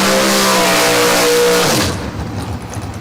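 A Ford Mustang engine roars loudly at high revs during a time-trial run, holding a strong, close drone before the pitch drops sharply and the sound fades as the car pulls away.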